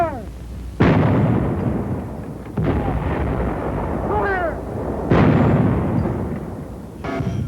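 Shoulder-fired infantry anti-tank weapon fired at a tank target on a range, giving three loud, sharp blasts spaced a couple of seconds apart, each trailing into a rumbling decay, with a voice speaking in between.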